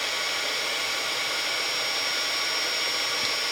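A heat embossing gun blows hot air to melt embossing powder on a Christmas card, a steady close whooshing fan hiss that holds even and unbroken throughout, with no talk.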